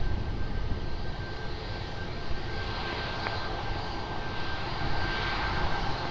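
An airliner takes off from runway 20 at Lisbon Airport, its engines a broad steady roar heard from a distance with no voices.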